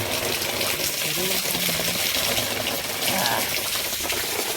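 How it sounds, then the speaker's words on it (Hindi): Water gushes out in a steady, loud rush, with a voice faintly audible beneath the flow. "हाँ तो पानी खतरनाक गिरा थी।"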